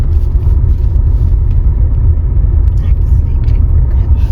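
A car lurches over rough ground while a driving lesson is under way, a steady loud low rumble of engine and bodywork shaking throughout, with a few faint rattles on top and no clear talk.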